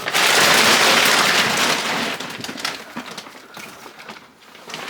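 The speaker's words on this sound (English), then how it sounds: "Right, excuse the noise of the plastic." Plastic sheeting rustles and crinkles close to the mic, loud and continuous at first, then settling into softer, intermittent crackles.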